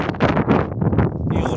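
A cold spring wind blows outdoors at a house construction site in Oral, buffeting close and loud in uneven, rough gusts.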